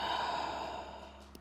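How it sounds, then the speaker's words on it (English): A single deep breath during a Pilates session with the head resting on the hands, heard as a soft, steady airy exhale lasting over a second and fading toward the end, close up with no speech. "taking a deep inhale and exhale"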